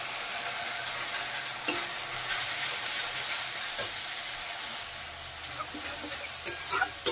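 Tomato paste with ground chili, turmeric, cumin and coriander fries in a pan for an egg and new potato curry, a steady close sizzle with occasional scraping stirs that grow busier near the end.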